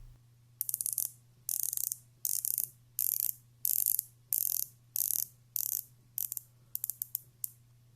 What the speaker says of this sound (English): It has 120 crisp unidirectional clicks, with a little bit of backplay